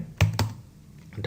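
A few soft keystrokes on a computer keyboard, two distinct taps then a lighter one, close and quiet with no talking.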